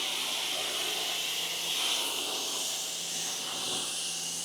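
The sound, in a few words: spraying coating onto car panel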